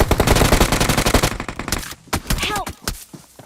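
Rapid bursts of automatic gunfire in PUBG Mobile, loud and close, a dense stream of shots that thins into a few scattered single cracks near the end, with no one speaking.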